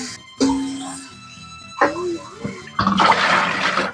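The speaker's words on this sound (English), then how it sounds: "now I'm just gonna draining my collards that have been soaking" Soaked collard greens are drained in a kitchen sink, with short bursts of rushing, splashing water separated by pauses, the loudest gush at the end, and a person talking in between.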